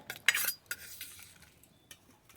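Spoon scraping and clinking against cooking pots while fried red amaranth greens are served, a few sharp metallic knocks early on, then softer scattered clinks, close and fairly quiet.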